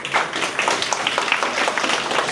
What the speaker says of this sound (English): First of all, give a big round of applause.